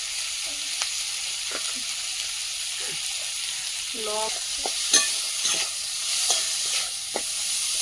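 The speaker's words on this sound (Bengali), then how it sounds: "চিংড়ি মাছটা ভাজা হয়ে গেছে" Prawns frying in a pan with green chili and ginger, a steady close hiss and sizzle with stirring scrapes and a few brief utensil knocks, while a voice speaks faintly in the background.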